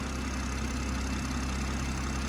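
A BMW M140i's six-cylinder TwinPower Turbo engine, rated at 335 brake horsepower, idles with a steady, dense, even drone and low rumble, close and continuous, with no talking.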